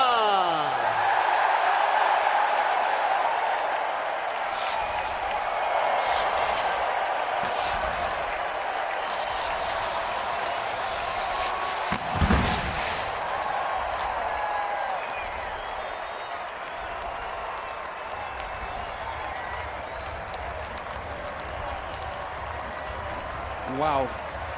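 A stadium crowd applauds South Africa's win at the 2025 ICC World Test Championship Final, a broad, steady roar of clapping that carries on throughout under a commentator's voice.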